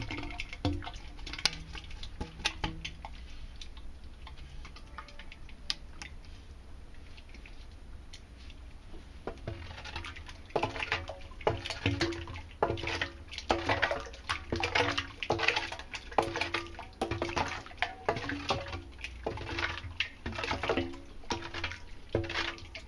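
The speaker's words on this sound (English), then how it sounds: "So all that remains now is to wash this mixing chamber, so we leave it clean." Water sloshes and splashes while a biogas digester mixing chamber holding dung and water is washed out. Quiet trickling at first, then bursts of irregular pouring and splashing that grow louder and more frequent, with no voices.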